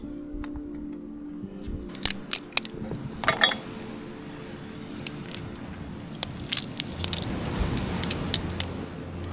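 A little girl eats dinner at a remote New Zealand beach camp, giving soft, close crunching and squishy bites that click irregularly over a steady outdoor hush, with no talking.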